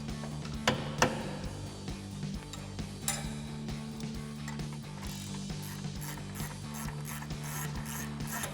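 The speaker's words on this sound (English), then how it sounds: "now we can take the front bolt out" A ratchet clicks steadily while the front bolt of a Toyota Tacoma suspension is removed during a Rough Country bolt-on lift kit install, with rapid pawl ticks and metallic clatter close up over a low background hum.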